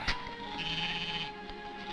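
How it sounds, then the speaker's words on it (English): A goat bleats in a 1951 jungle horror film, a drawn-out wavering cry over a steady background hum, moderately loud and with no talk over it. "Why is there a goat there?"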